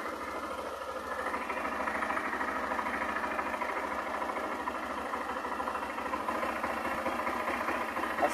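A 2008 Honda Fan 125 motorcycle with a faulty voltage regulator idles nearby with a steady, rough chugging, running continuously and fairly loud without any voices.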